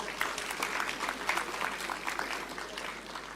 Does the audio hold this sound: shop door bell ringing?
no